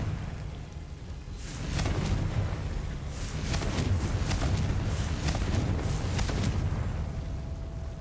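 In Hogwarts Legacy, a Confringo spell explosion rumbles in after a quiet start, followed by a sustained crackling roar with bursts of popping debris that gradually fades.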